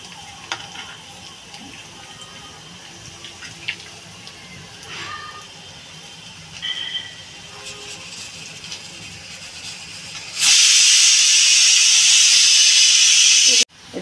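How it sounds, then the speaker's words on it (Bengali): Lentil fritters (bora) frying in oil in a home kitchen, a soft steady sizzle that swells into a loud, broad hiss for a few seconds near the end, with scattered small clinks of utensils. "বড়াগুলো একটু বেশ সুন্দর একটু লাল লাল করে ভাজবো"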